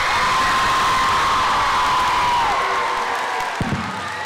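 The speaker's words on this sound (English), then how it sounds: "So can we get one more round of applause for everybody?" A school talent show audience cheers loudly, with children whooping and shouting over scattered applause in a large room, while a sustained electronic tone sits underneath and trails off near the end.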